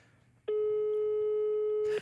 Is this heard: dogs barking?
no